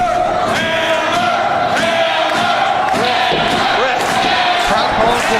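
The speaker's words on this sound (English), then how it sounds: "Crowd calling for it" Wrestling arena crowd at a Fully Loaded event roaring and chanting for the finishing move, a dense loud wall of voices with rhythmic rising shouts and occasional thuds, continuous throughout.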